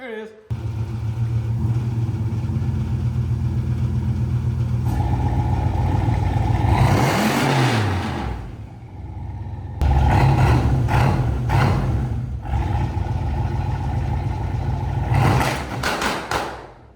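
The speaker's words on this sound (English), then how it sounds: "A freaking police car shooting flames." Turbocharged police car with a 550+ horsepower engine, revving hard in loud bursts with crackling pops and bangs from the exhaust between steady idle stretches; people talk and shout over it.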